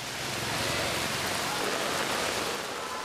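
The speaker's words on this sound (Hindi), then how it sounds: "झमाझम हुई राहत की बारिश।" Heavy monsoon downpour, a dense, steady hiss of rain pounding surfaces, loud and continuous throughout with no voices.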